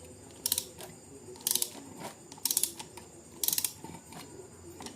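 Bearing puller tightened with a ratchet: four evenly spaced bursts of rapid metallic clicking, each about half a second long, close and fairly quiet, no talking.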